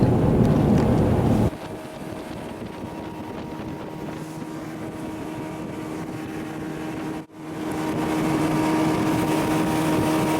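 A steady engine drone with wind rushing over the microphone, loud and constant as a motorboat travels along a river in South Dakota; a brief dip in the noise partway through.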